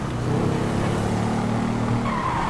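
Red 350cc Royal Enfield Bullet motorcycle ridden in GTA 5, a steady droning engine note with a smooth, continuous rev that holds close and loud throughout, rising slightly near the end.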